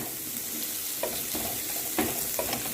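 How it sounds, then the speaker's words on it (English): Onions and carrots sauté in oil in a pan for a Jamaican-style curry shrimp pasta. A soft continuous sizzle runs through it, broken by a few light stirring scrapes. "continue to saute until the onions become translucent and the carrots"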